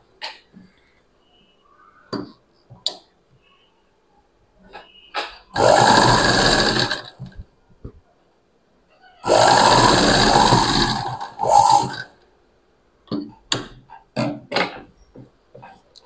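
A sewing machine stitches a little girl's frock in two loud, sustained runs, each a few seconds long, with quiet pauses, light clicks and handling taps between them. No voices are heard.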